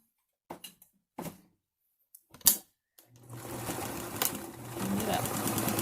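A sewing machine stitches along the folded edge of a cloth face mask, running steadily for the last few seconds after a few knocks and handling sounds.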